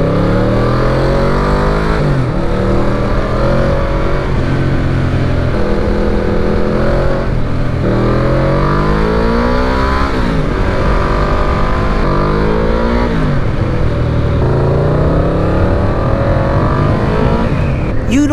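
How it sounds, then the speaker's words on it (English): A Yamaha VMAX motorcycle engine roars continuously at high speed, loud and close, its pitch sweeping up and down in repeated rising revs over a steady rumbling drone. "the bike sounds like it's just going at terminal speed"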